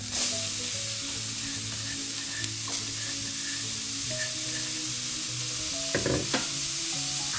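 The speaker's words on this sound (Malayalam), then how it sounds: "ഇതിൽ ഞാൻ എണ്ണ ചേർക്കുന്നില്ല, അല്ലാതെ തന്നെ ഉള്ളി നമുക്ക് വാട്ടിയെടുക്കാം" Onions sauté in a dry pan with no oil, a continuous close hiss and crackle with occasional spatula scrapes and a couple of sharper knocks near the end, no voices.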